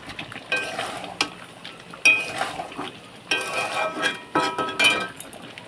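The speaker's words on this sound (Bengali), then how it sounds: "তো এখন কিন্তু মাংসটা ভালোভাবে কষে নেব।" Meat being stirred and fried in a pot with spices, a spoon clinking and scraping against the metal in repeated bursts over a faint sizzle, close and fairly loud, with no voices.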